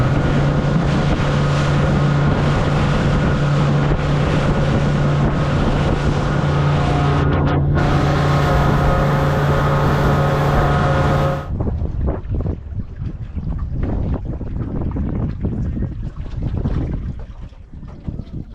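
A motorboat on open water between the Dry Tortugas and Key West runs with a steady loud engine drone and wind buffeting, then shifts to a rougher rushing wash of water and wind as it speeds up.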